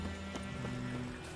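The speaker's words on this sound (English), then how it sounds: "Whoa, okay, that's my horse." Horse hooves in The Witcher 3: Wild Hunt, a steady clip-clop under dense game ambience and background music, moderately loud and continuous.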